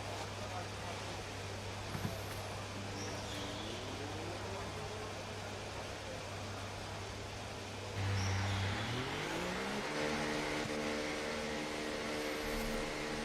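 Formula 1 car engines in the F1 24 racing game at Las Vegas, a steady engine drone with rising whine during acceleration, louder after a shift midway, with a voice talking over it.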